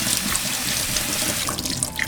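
Water from a kitchen tap pours steadily over cubed potatoes being rinsed in the sink, a close, continuous splashing rush.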